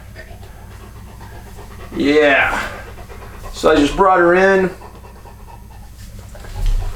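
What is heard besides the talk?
dog panting after running outside in warm weather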